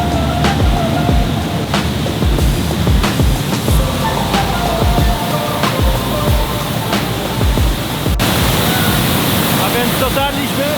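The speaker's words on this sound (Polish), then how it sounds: "Dotarliśmy do dolnych wodospadów, jest przepięknie" A loud, continuous roar of rushing water from the lower falls in Canada's Banff area fills the scene, with voices of people faintly mixed into the constant wash.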